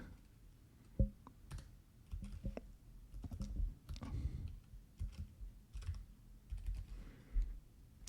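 Close-up typing on a computer keyboard during a design software session, with a steady run of soft, irregular key clicks and a few louder taps. No voices.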